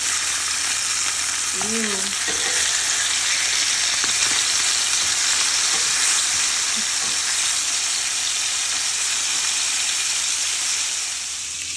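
Steak fingers fry in a pan with a loud, steady sizzle and hiss that runs throughout, broken by a brief pan scrape or two early on and fading slightly at the end.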